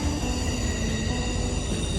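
A loud train passes nearby in Washington, D.C., a dense continuous rumble with steady high metallic whine from the wheels, filling the whole moment without any voices.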